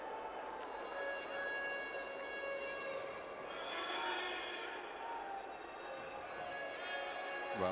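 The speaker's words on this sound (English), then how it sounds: "there's still some idiot making a noise with the horn" In a stadium crowd at a women's 4x100 metre relay final at the 2013 world athletics championships, an air horn blares in long sustained tones, echoing over a hushed crowd murmur before the start.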